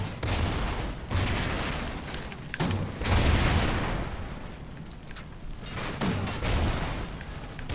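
Grenade launcher rounds exploding in a Call of Duty: Ghosts multiplayer match: a string of loud, rumbling booms about a second or more apart, with the din of the game continuing between blasts.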